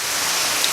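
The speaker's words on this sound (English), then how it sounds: "you'll have to pardon the noise in the background because it's now raining rather hard" Heavy rain falling hard outside, a dense, even wash of hiss that runs without a break through the short stretch, with no voices over it.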